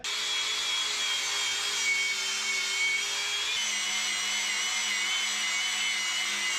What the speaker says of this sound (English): The wire wheel will take off the rust, but it ain't getting good clean metal.